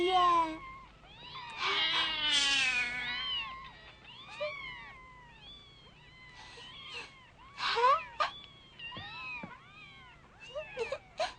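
A cat meows repeatedly and close by, a quick run of rising and falling cries in uneven bursts with short pauses between them, some of the calls drawn out into wailing tones.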